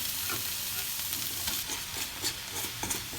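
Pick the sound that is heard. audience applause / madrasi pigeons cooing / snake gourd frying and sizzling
snake gourd frying and sizzling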